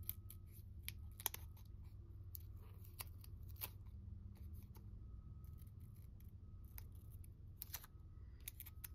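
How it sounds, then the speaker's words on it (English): Scissors cutting around paper shapes, a quiet, close series of irregular snips and crisp clicks spread across the stretch with no talking. "And then I think what I'm gonna do is cut around these shapes."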